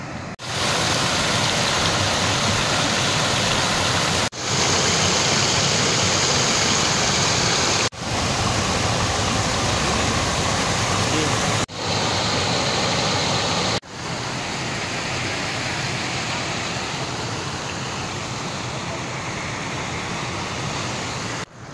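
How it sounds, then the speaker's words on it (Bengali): Water pours over a small village dam in a constant, loud, broadband rush, with a few abrupt breaks where the roar cuts and resumes. "এটা কোনো ব্যারেজ বা ড্যাম নয়, এটা ছোটোখাটো বাঁধ"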